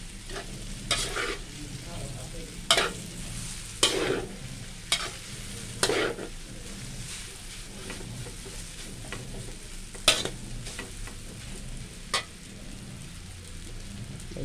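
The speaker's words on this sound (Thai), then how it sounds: "ผัดให้มันหอมๆก่อน" Yellow Thai noodles being stir-fried in a pan over low heat: a steady sizzle runs throughout, broken by sharp scraping clacks of a utensil against the pan every second or two, with no voices.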